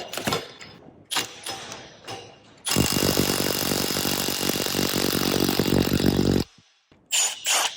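A cordless 3/8-inch impact wrench runs at max power in reverse on a full battery, a sustained loud rattling hammer burst lasting several seconds, preceded and followed by brief shorter bursts, close up.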